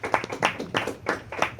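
Applause for a festival patron at the official launch of the 12th Festicab festival, a few hands clapping in uneven bursts, fairly close and moderately loud, with no talk over it.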